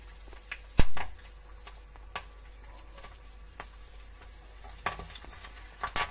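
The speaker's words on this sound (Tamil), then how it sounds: "இப்போ இதில் வந்து கடுகு உளுந்தே நம்ம போட்டுக்கிறோம். கொஞ்சம் பொரிய ஆரம்பிக்குது." Mustard seeds and urad dal splutter in hot sesame oil for a dry fish fry, making a soft continuous sizzle punctuated by scattered sharp pops and crackles, one louder burst early on.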